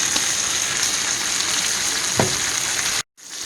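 Wagyu steak sizzling in a hot skillet, a loud, steady crackling fry with a brief thump partway through, before the sound cuts out abruptly near the end and then returns more quietly.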